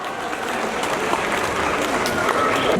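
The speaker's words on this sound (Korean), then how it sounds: "큰 박수 부탁드리겠습니다" Sustained audience applause at a Taekwondo ceremony during an international open tournament, where an honorary dan certificate is presented; steady dense clapping fills the whole moment at an even level.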